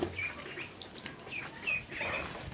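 Several poultry birds chirp and coo intermittently amid flapping wings and rustling, close by in a busy enclosure.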